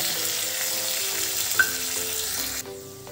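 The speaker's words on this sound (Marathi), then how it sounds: "मी टोमॅटोची प्युरी टाकून परतून घेते।" Tomato puree being sautéed with pink-fried onions in a pan for a spicy black chickpea curry, giving a steady close sizzle with stirring scrapes and a brief clink, quieter near the end.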